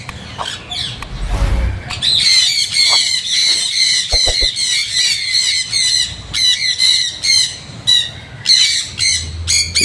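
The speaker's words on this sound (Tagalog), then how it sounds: "ibang klaseng ibon ito" Birds squawk and chatter almost continuously at a park in Manila, harsh repeated calls close by while feeding, with a few brief thumps and rustles underneath.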